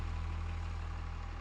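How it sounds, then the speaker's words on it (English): Low, steady engine drone from an old, run-down truck idling, with an even pulsing rumble throughout and no voices. "Or that's his crappy truck."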